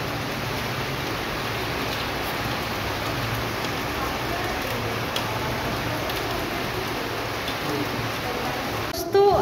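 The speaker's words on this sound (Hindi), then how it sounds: "तो इतना ज्यादा बारिश दे रहा है, इतना ज्यादा थंडरिंग दे रहा है।" Steady, dense rain pours down continuously, a broad hiss with faint ticking drops, ending in a brief louder knock.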